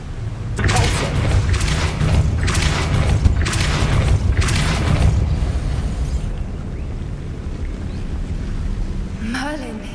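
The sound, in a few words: Depulso spell cast in video game Hogwarts Legacy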